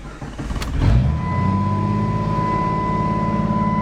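A 1998 Jeep Grand Cherokee engine cranks briefly and catches, then settles into a steady, close idle with a faint whine running through it.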